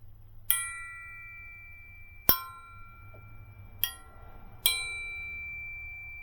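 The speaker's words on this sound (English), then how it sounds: "When you have something that is not cracked and it's made out of metal, it will ring like a bell" A metal Model T engine part, uncracked, struck four times at spaced intervals, each hit ringing out clear and bell-like with a long sustained tone that slowly decays.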